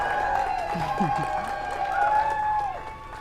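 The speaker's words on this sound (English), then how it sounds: "Small crowd, but big cheers." A small crowd cheers and claps as NASA astronauts walk out ahead of a SpaceX crew launch. A bright whistle rises over the steady cheering for about three seconds.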